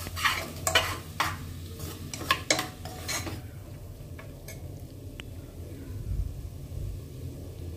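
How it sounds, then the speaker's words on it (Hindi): Two medium potatoes go into well-roasted masala to fry lightly for a spicy potato-aubergine dish, with several quick metal spatula scrapes and clanks against the pan over a soft, steady sizzle that continues alone. "अब ऐड करेंगे हम दो मीडियम साइज़ के आलू, उसको हल्का सा भून लेंगे।"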